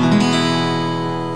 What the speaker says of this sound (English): Now strum down over all the strings.